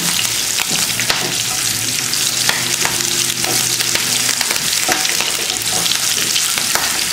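Cumin, black pepper, green chillies, curry leaves and ginger frying in hot fat for wheat rava pongal, a loud, close, continuous crackling sizzle with brief stirring clicks throughout.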